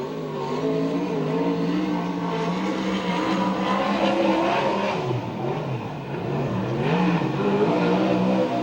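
A sprint car or midget on a qualifying lap at a Santa Maria, California dirt oval, its engine droning loudly and continuously with rising and falling pitch as it circles the track.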